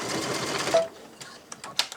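A sewing machine stitches the edge of a yard flag in a fast, buzzing run that stops abruptly partway through, followed by a few soft clicks and taps as the work is adjusted.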